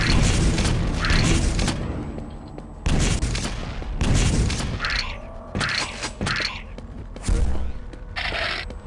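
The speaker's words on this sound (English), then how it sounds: "Oh, he has a rocket launcher too now." Rocket launcher explosions in a video game: a series of heavy, booming blasts and cracking bursts in irregular succession, loud and close, separated by brief lulls.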